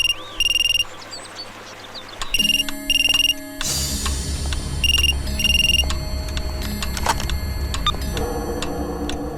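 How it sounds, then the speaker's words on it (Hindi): A phone ringback tone repeats in short electronic bursts, several rings in a row, with background noise and clatter underneath. "सबसे पहले इसकी माँ का फोन लगाते हैं।"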